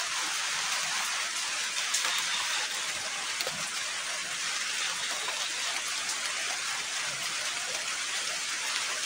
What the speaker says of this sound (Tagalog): lakas pa kasi ng ulan guys.